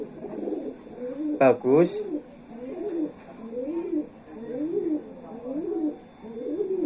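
Short-bodied pet pigeons cooing in a steady series of rising and falling calls, close and moderately loud, with a voice briefly speaking over them.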